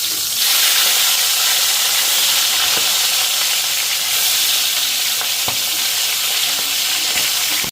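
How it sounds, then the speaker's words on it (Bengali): Steady, loud sizzling of fish heads frying in hot oil in a pan, with a few faint clinks of a utensil and no talking. "আর এখন এদিকে মাছের মাথাগুলি ভাজা নিই।"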